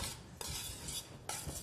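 Butter pieces being whisked into warm lemon curd cream in a saucepan, a close, steady scraping and clinking of the whisk against the pan with brief pauses, no voices.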